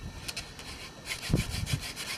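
A wooden hand drill spun between the palms against a fireboard to make friction fire, giving a rough, rhythmic rubbing and scraping that strengthens in the second half with a few heavier strokes, close and alone.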